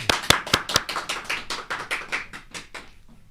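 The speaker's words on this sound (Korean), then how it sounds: "큰 박수로 환영해 주십시오." Studio audience applause greeting a guest lawyer on a Korean talk show, a burst of clapping that starts loud with sharp claps and gradually thins and fades out over about three seconds, with no talk.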